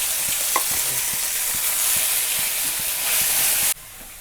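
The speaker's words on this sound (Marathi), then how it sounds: "आपण ही वाटण करून घेतलेले वाटण सगळं टाकून घेते मी" Ground coconut and garlic paste frying in hot oil with cumin, mustard seeds and curry leaves for a pea curry, giving a steady, loud sizzle with faint stirring taps that cuts off sharply near the end.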